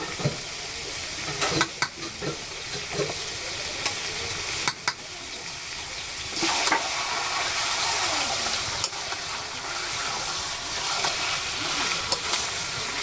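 Pieces of local desi duck meat sizzle and hiss in a pan heavy with hot oil, a loud steady frying roar broken by occasional clatters and scrapes of stirring.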